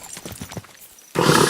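Horse hooves clip-clopping in the medieval game Kingdom Come Deliverance 2: a brisk, even run of close hoof strikes, then a loud broadband burst of movement noise in the final moments.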